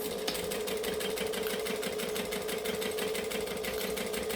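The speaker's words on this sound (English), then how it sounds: "now I'm gonna top stitch along all of here to close the hole" A sewing machine top stitching vinyl with a long stitch length runs steadily and close up, its rapid, even needle rhythm continuing without pause.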